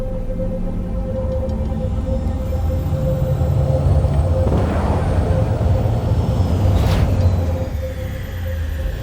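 A flying vehicle lands in Cyberpunk 2077, with a loud, continuous engine rumble, a steady tonal hum and rising whooshes midway, while a voice speaks over it.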